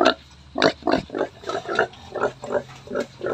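Two-month-old fattener pigs in a pen grunt repeatedly at close range, a steady series of short, rough grunts with no talking.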